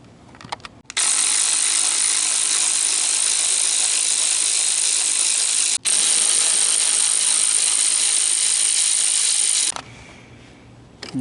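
Ratchet or power driver working off bolts from the radiator air duct of a 2000 GMC Sierra: a loud, continuous whirring buzz lasting several seconds, broken once by a short gap, alone.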